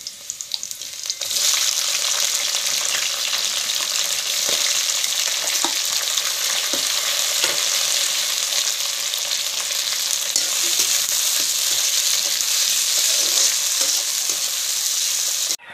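Tomatoes, onions and masoor dal frying in a pan give off a strong, steady sizzle, close and continuous, with occasional soft stirring scrapes.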